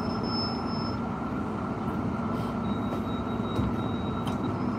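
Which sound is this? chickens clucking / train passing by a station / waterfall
train passing by a station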